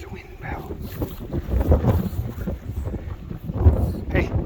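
Wind gusts across a microphone on a windy day outdoors, a loud, rough rumble that swells and fades continuously from start to finish.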